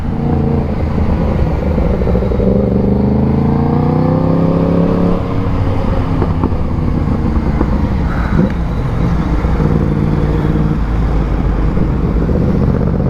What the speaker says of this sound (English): and George up there on the MT10, you hear the Akrapovic titanium exhaust singing.